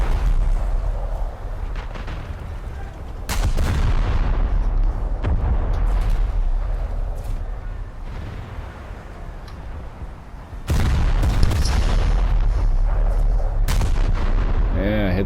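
Naval gunfire and explosions from War Thunder naval battles, with a Brooklyn cruiser shelling enemies near the Fuego Islands; loud heavy booms and cannon blasts repeat over a constant low rumble, with two especially sharp volleys.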